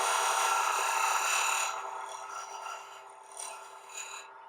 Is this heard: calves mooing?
no